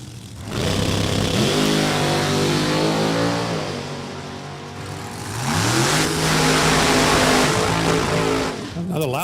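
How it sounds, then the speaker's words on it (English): A loud drag racing car roars at an NHRA event at New England Dragway, its engine note climbing, briefly dipping, then surging again in a sustained, close, dense howl. "Another loud car."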